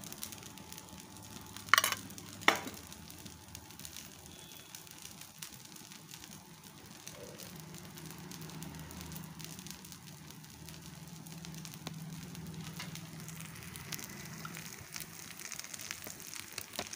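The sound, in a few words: sponge dosa sizzling on the pan with oil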